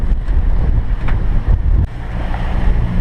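Seawater splashes over a sailboat running down the Caribbean from St. Martin to St. Kitts, a broad rushing wash over constant wind buffeting the microphone and low hull noise, with no talk.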